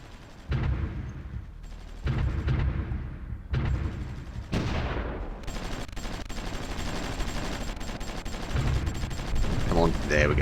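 Artillery and gunfire in the strategy game Supreme Ruler Ultimate, a battle over Tbilisi: repeated heavy booming bursts roll one after another, loud and continuous with dense gunfire between impacts.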